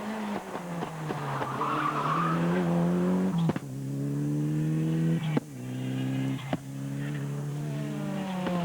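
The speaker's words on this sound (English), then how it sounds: "Steve Hill with the Steve Hill Motorsport built Evo 3 Mitsubishi." A Mitsubishi Evo 3 rally car engine drones steadily, pitch climbing through gear changes, with tyres skidding and squealing on loose ground.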